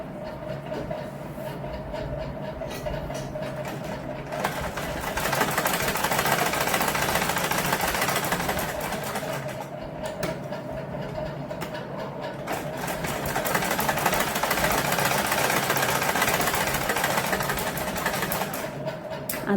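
Sewing machine stitching a frill onto a large bridal bag, a continuous rapid mechanical chatter that swells and eases in runs across about twenty seconds, fairly close, with no talking.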